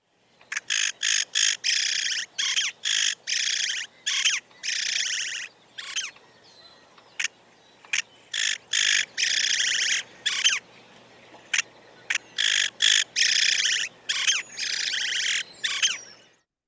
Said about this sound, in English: this is called the hawk song because the male yellow-headed blackbirds use it to gang up on